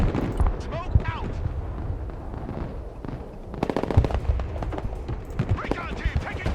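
Bursts of gunfire hit a recon team in the military strategy game Broken Arrow, rapid automatic volleys and sharp booms crackling beneath steady radio chatter and game voices.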